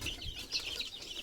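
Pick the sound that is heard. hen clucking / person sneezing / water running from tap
hen clucking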